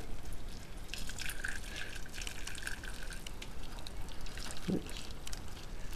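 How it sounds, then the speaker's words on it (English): Boiling water pours steadily into a pan holding soba noodles and a stock cube, a continuous splashing wash with a small drip near the end and no voices. "you then add boiling hot water"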